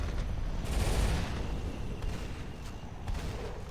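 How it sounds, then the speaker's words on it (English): Shotgun fire at a Howitzer position in the Rise of the Reds strategy game pops as several sharp, fairly faint reports over a rumbling bed of battle noise. "Sergeant just shooting with his shotgun at the Howitzer position."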